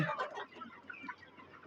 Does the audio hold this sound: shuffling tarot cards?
no